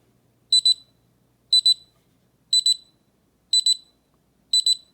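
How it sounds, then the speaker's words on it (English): Loud double beeps from an alarm clock repeat five times at a steady once-per-second rhythm, close up, with silence between bursts. "Okay, that's the alarm."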